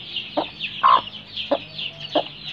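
A mother hen clucks in short, separate calls close by while her chicks peep almost constantly in the background on a small poultry farm.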